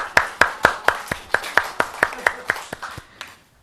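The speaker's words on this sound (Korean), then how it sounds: "박수!" Audience clapping in an even, quick rhythm, about a dozen crisp, close claps that gradually soften and stop.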